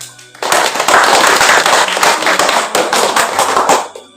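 An audience at a village food-potential writing workshop presentation breaks into loud, sustained applause, dense clapping starting abruptly and continuing for several seconds at close range.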